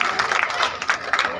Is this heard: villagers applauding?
yes